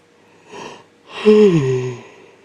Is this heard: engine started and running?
no